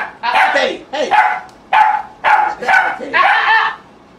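A dog barks and yips close by in six or so loud, quick bursts in a row, with a few whimpery edges between them.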